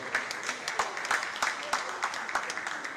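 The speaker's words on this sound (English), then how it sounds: "Let's give Mr. Motosho a round of applause." An audience at a Pest Control Association of Nigeria panel session gives light, scattered applause, a moderate patter of claps with some voices mixed in.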